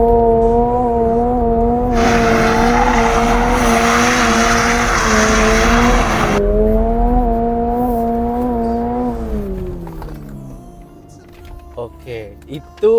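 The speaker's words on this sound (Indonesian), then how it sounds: "Kalau mau donat setir ini belok ke full kiri." A Subaru BRZ spins a donut with the steering at full lock, its engine held at high revs while the tires squeal loudly for several seconds, then the revs drop and the car settles as a voice speaks at the end.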